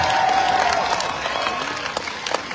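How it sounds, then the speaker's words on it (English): A crowd at a protest rally outdoors in Midland claps and applauds, a dense, steady patter that gradually thins out with a few late claps. "Can we give our organizers another round of applause?"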